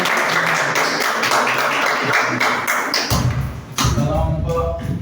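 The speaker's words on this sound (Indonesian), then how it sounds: "Tepuk tangan." A classroom of students claps together in a dense burst of applause, loud and close, that thins and changes character partway through before picking up again.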